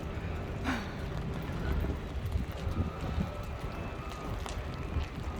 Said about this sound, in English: this is an example of how strong the wind is